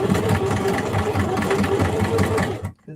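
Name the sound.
sewing machine sewing label onto denim tote bag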